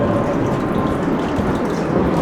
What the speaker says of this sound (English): I hear something sounds like a big waterfall ahead.